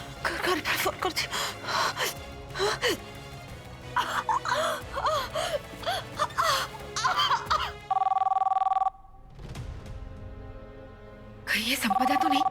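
A home landline telephone rings with steady electronic tones in two separate bursts, following a stretch of someone gasping and speaking in a strained voice, in a Hindi TV drama.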